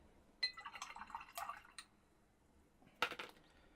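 Paint is poured from a small container into a dropper bottle, giving faint, quiet drips and a few sharp clinks of the bottle over a few seconds, with no voices.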